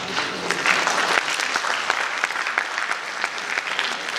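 An audience claps steadily through an anniversary ceremony of the Cantonment Board in Barrackpore, with dense, sustained applause at close range and no talk.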